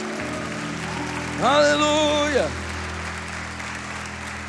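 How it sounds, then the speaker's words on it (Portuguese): A church congregation applauds in a steady, wash-like roar, while a single voice rises above it in a long sung exclamation partway through. "Alguém pode aplaudir o Senhor aqui nessa igreja?"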